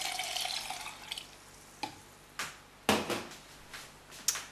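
Water poured into a NutriBullet blender for sunflower seed milk makes a hissing splash at first, then a few short knocks and clatters follow in otherwise quiet surroundings.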